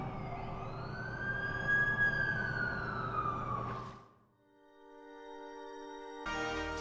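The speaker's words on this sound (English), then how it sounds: "That's the ambulance I called." Ambulance siren in the video game The Amazing Spider-Man 2, a wailing siren sweeping up and down over a rumbling engine and traffic hum, fading out after about four seconds before other tonal game sounds take over.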